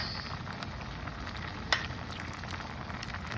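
Salt mackerel custard simmering in a pot over a fairly high flame, a soft steady sizzle and bubbling hiss with one brief sharp tick, close and quiet with no talking.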